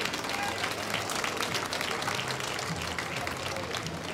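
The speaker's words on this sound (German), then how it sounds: "Applaus" Applause for a gymnastics squad passing in a festive street parade celebrating 850 years of Schwerin, a steady outdoor wash of scattered clapping from spectators along the route, moderately faint with crowd murmur and voices underneath.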